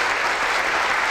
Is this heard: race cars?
no